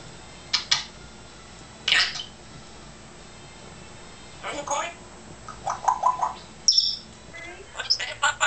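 A pet bird gives several short chirps and squawks spread across the clip, close and clear, with quiet pauses between the calls.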